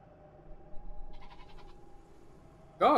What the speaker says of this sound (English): Goat. My god, it sounds so cool, guys!